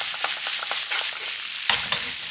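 Fried udon with dried bonito flakes being stirred in a hot pan, a steady run of soft scraping and tossing strokes over a light sizzle, with a couple of sharper clatters near the end.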